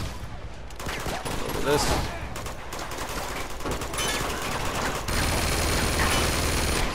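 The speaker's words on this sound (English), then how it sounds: "Nate, get on the machine gun." A mounted machine gun fires in Uncharted 2, loud rapid bursts of gunfire running continuously with dense crackle, while a brief voice speaks over it.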